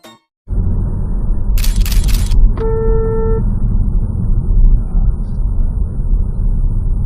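Inside a car on the road, a single short horn blast lasting under a second sounds over steady engine and road rumble, just after a brief loud rustle.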